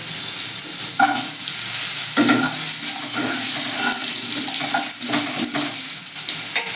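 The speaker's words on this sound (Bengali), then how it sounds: "এক চামচ কালো জিরে ফোড়ন দিয়ে দেবো এবার আমি আলুগুলোকে ছেড়ে দেবো" Potato pieces hit hot oil spiced with nigella seeds and dried red chili in a frying pan, sizzling loudly and continuously up close, with intermittent scrapes and clacks of stirring.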